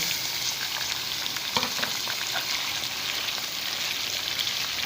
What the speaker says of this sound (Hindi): अब इसे हमने इतनी देर फ्राई करना है कि इसका पानी बिल्कुल खुश्क हो जाए